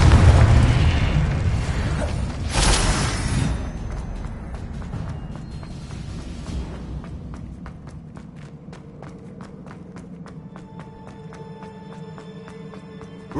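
A Confringo blasting spell in Hogwarts Legacy erupts in heavy explosive bursts at the start, then fades into lighter rapid clicks and footstep-like taps with a faint tonal hum, growing quieter over time.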